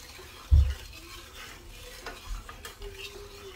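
A sweet milk mixture for Guatemalan milk candy is stirred in a pot, with a soft bump against the pot and then quiet scraping strokes at low volume.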